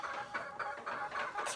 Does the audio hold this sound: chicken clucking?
yes